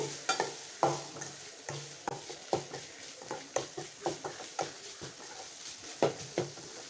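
Beetroot with turmeric and salt is stirred in a hot pan, producing a steady run of rhythmic spatula scrapes and taps over a gentle frying sizzle, close but fairly quiet, with no talking.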